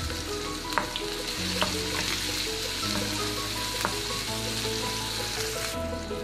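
Chopped onions fry in hot oil for a mutton ghee roast, a steady close sizzle with occasional stirring scrapes and clicks throughout, no voices.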